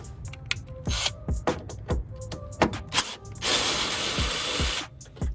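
A 5/16 socket ratchet removing headlight bolts on a car: rapid clicking ratchet bursts, close and sharp, then a longer hissing rush near the end, with no talking.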